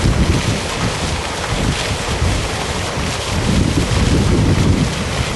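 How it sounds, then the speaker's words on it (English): A small waterfall on the La Sierra University campus splashes in a constant, loud rushing hiss, steady throughout with no voices. "So we have our own little waterfall here."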